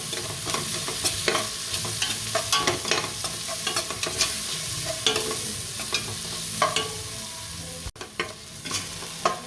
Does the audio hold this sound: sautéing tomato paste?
yes